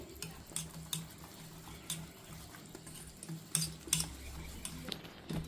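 Mysore pak batter being stirred with oil until smooth, giving soft repeated scraping and light clinks of a utensil against the bowl in an uneven rhythm, close and fairly quiet.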